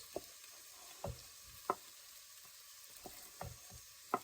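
Diced white onion and garlic go into a pan where beef and vegetables are already cooking, giving a quiet sizzle broken by a few sharp stirring knocks at irregular intervals.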